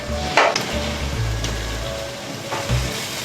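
Masala of tomato and yogurt with added potatoes frying in a pan for egg pulao, a steady close sizzle with brief scraping stirs of a spoon.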